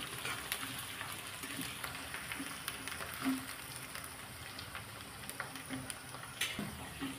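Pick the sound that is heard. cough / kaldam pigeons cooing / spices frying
spices frying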